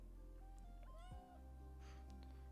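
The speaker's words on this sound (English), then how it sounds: "she is meowing" A pet cat meows once, close and clear, a short rising-falling call over a steady background hum.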